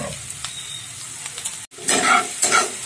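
Chopped onion sizzling and frying in hot oil in a pan for a Bengali begun bahar (aubergine) dish, a steady close crackle with stirring scrapes and a short pause before a louder burst of sizzle.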